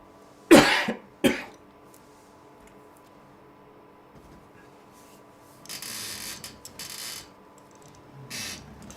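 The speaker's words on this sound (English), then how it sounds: "Excuse me, I got a cough." Two sharp coughs close together near the start, followed by quieter shuffling and a few soft bursts of noise; no talking.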